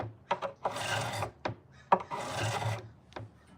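A guitar nut is sanded in short rasping strokes, several gritty rubs in an uneven rhythm, close and fairly quiet, with small taps between strokes.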